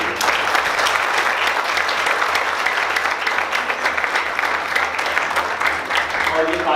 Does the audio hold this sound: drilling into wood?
no